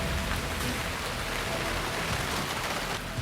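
Heavy monsoon rain pours steadily on surfaces across farmland in Maharashtra, a dense continuous broadband wash at constant loudness with no voices.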